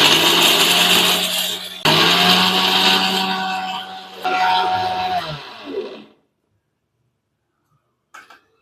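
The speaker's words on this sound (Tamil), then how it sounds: "இது பவுட்ரு பண்ணி எடுத்துக்கலாம்." A kitchen mixer grinder powdering spices for Tirunelveli-style sambar runs loud and close in several whirring bursts, pausing briefly between them before cutting off, followed by silence and a faint clink.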